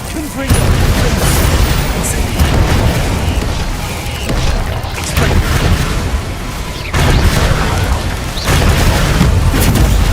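Incendio fire spells cast in the video game Hogwarts Legacy, loud booming blasts that burst repeatedly over dense, continuous combat noise for the whole stretch, with a voice calling out spells.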